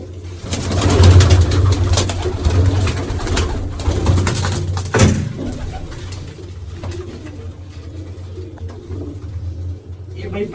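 Pigeons coo in a Punjabi pigeon-keeping setting, low throaty calls rising and falling over about ten seconds, with people talking and background noise.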